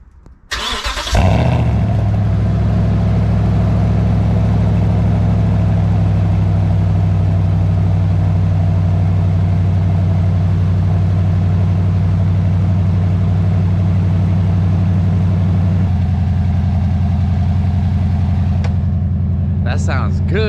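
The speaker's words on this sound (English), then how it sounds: "Let's get a cold start going here." A Toyota Tundra 5.7 with a side exit exhaust fires up from cold with a sharp crank and burst, then settles into a loud, deep, steady idle that shifts slightly in pitch near the end.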